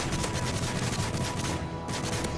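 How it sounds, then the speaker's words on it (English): Dense gunfire in the video game Call of Duty: Modern Warfare 3 Special Ops, loud rapid shots packed together without a break through a short burst. "I'm trying to shoot the people who are downstairs."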